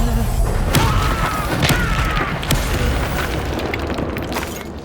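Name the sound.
Depulso spell blast in Hogwarts Legacy video game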